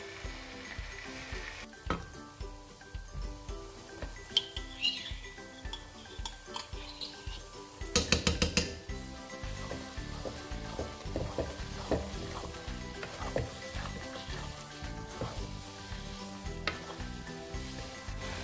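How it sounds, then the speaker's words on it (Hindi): Grated carrots fry in a pan for carrot halwa, giving a soft, continuous sizzle broken by scraping and clicking stirring strokes, including a quick rattling burst midway, with no voices. "बाकी ये इसे हम अब बहुत अच्छे से फ्राई करेंगे कि ये गाजर का जो रेड कलर है थोड़ा सा डार्क हो जाए"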